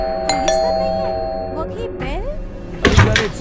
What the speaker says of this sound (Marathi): तरीही डोर बेल वाजत होती.